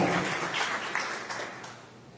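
A church congregation at a Sunday service applauds in a dense, continuous wash of clapping that slowly fades, with no talk over it.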